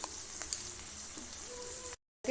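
Vegetables for an alu gobi capsicum curry sizzle and fry in a pan with salt and turmeric, a loud steady crackle with a few stirring clicks before a sudden brief cutoff.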